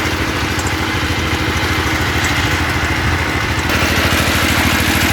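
A small belt-driven engine powers a cheap water-well drilling rig, running steadily and loud with a dense, rapid low-pitched throb that continues unbroken.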